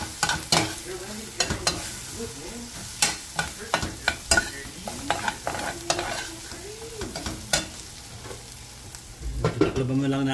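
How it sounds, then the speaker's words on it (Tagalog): Eggs are stirred and fried in a pan for a dipping sauce, with a steady sizzle under repeated scraping and clanking utensil strokes, close and fairly loud, with no talking. "Lutuin mo lang ng konting itlog para maganda."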